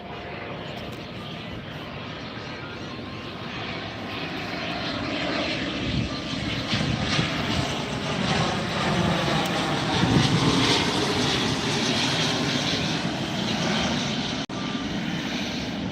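Airliner at Tampa airport giving a steady, loud engine roar that builds gently and holds for a long stretch, continuous and broad with no talking.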